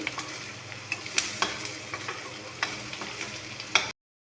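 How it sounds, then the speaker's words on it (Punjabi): Ingredients roasting in a pan over a low gas flame for a Punjabi dhaba-style moong masoor dal, with steady soft sizzling and several sharp stirring scrapes and clinks, close and alone. "ਉਹਨੂੰ ਆਪਾਂ ਸਿਮ ਗੈਸ ਤੇ ਚੰਗੇ ਤਰੀਕੇ ਨਾਲ ਭੁੰਨ ਲਾਂਗੇ"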